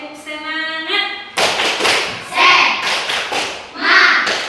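Schoolchildren in an Indonesian classroom chant together, then break into a rhythmic spirit clap of loud, sharp hand-clap bursts in quick patterned groups, close by and mixed with their voices.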